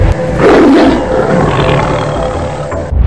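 A Sundarbans tiger lets out a loud, close roar that swells early and then rumbles on in a deep growl for a few seconds before cutting off.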